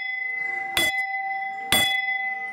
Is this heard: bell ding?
yes